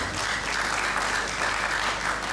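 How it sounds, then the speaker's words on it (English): Steady, dense applause from a conference audience at a science faculty opening ceremony, a continuous wash of many hands clapping with a low hum underneath and no pauses. "Please give us a round of applause."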